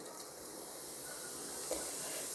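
Cumin seeds sizzle in hot oil as tempering for a spiced corn curry, a faint, steady hiss with no talk over it.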